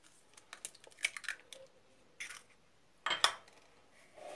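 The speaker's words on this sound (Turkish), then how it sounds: "Daha sonra bunu böyle karıştırıp bir krem kıvamına getireceğim." Oil, 125 g of margarine and an egg being mixed into a cream in a kneading bowl, with irregular clinks and scrapes of a utensil against the bowl in short bursts and pauses, close and crisp, no talking.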